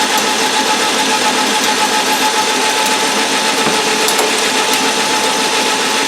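A center drill cuts on a Logan lathe fitted with a turret attachment, giving a steady mechanical whir and hum with faint ticking, close and continuous throughout.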